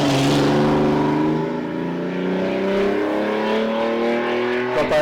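A historic racing special with a speedway-style engine roars past at a hill sprint event, its rising engine harmonics loud and close before fading away, with no voices over it.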